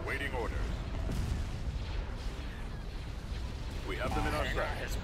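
Ship weapons firing on enemy engines in a space combat video game, a steady barrage of heavy booming blasts under continuous battle noise, with voices talking over it.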